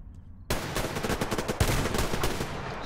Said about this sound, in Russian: стрельба, стрельба.